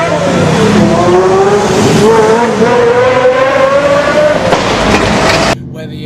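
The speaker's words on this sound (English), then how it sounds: "The Pagani Zonda hitting the rev limit, bouncing off the rev limit and accelerating down" A Pagani Zonda hypercar screams loud and close, its engine note climbing steadily as it bounces off the rev limiter and accelerates hard, then cuts off abruptly near the end.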